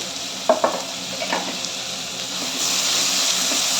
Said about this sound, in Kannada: ಈರುಳ್ಳಿ ಮತ್ತೆ ಕರಿಬೇವಿನ ಸೊಪ್ಪು ಎಲ್ಲಾನು ಫ್ರೈ ಮಾಡ್ಕೊಳ್ಳೋಣ